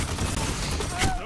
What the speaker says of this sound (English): Okay, I like this hand cannon.